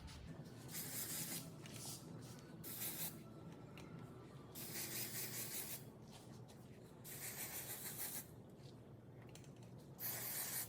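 Repeated bursts of aerosol hair product spray hissing close by, several short blasts separated by brief pauses, with faint rubbing between them.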